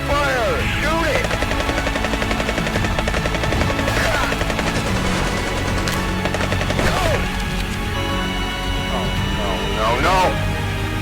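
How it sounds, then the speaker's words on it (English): Rapid bursts of gunfire rattle through a chaotic video game battle, loud and continuous. They mix with a thrumming, helicopter-like drone and excited shouting voices throughout. "Open fire! Shoot it!"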